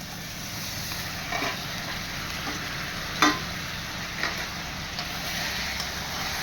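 Potatoes fry and get stirred in a pan for a Bengali omelette curry, a steady close sizzle with occasional scraping stirs breaking through.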